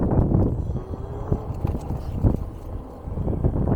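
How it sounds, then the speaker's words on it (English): A horse walks along an outdoor trail, its hooves clip-clopping in a loose, uneven rhythm close by, with wind buffeting the microphone throughout. "A horse."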